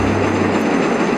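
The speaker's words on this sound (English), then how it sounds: "the train sounds very noisy again" A train running in the mobile game TrainStation 2, a steady loud rumbling rail noise with a low hum underneath, continuous throughout with no talking.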